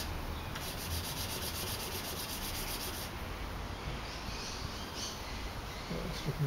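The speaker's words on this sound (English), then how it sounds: "I'm just going to use a small piece of emery paper to smooth both the edges and the inside and outside" Emery paper rubs back and forth against the edges of a handmade silver ring, a soft, steady scratchy friction that continues evenly throughout at close range with no talking.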